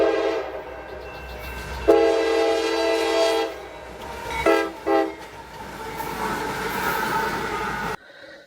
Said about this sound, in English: This was CSX M225, a northbound autorack train running from Newcastle, Pennsylvania to Detroit, Michigan.